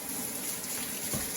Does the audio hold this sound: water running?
yes